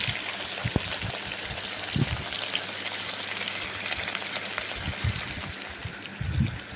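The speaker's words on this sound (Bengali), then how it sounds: "তেল দিয়ে চিকেনগুলোকে ভেজে নিচ্ছি সর্ষের তেল দিয়ে রান্না করছি" Chicken pieces frying in mustard oil in a pan give a steady, close crackling sizzle with scattered louder pops and splutters throughout.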